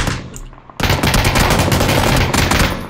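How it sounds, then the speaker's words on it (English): Rapid, loud bursts of automatic gunfire fill the scene in the video game PlayerUnknown's Battlegrounds, beginning abruptly after a quieter moment and continuing steadily close by. "someone's shooting at me"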